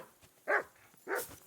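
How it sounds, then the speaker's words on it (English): A dog in Kingdom Come: Deliverance 2 gives two close, loud barks about half a second apart, otherwise quiet. "I assume you can hear that damn dog of yours."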